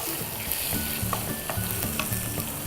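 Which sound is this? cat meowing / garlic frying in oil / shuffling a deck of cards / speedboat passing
garlic frying in oil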